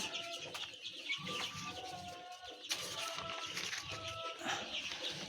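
Young chicks chirping in a brooder, a dense chorus of high peeping calls continuing throughout at close range, with faint background noise.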